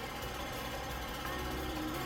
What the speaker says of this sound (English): Sorry the fan's noisy.